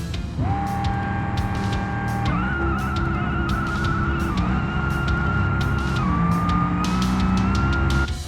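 A drag race car roars down the strip in a racing video game, its engine whine climbing steadily and dipping through several gear changes, loud and continuous with sharp ticking pops throughout.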